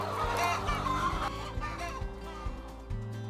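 Free range hens cluck inside a chicken house beside the nest boxes, sounding as repeated low clucks and murmurs, busy at first and then sparser, close and moderately loud.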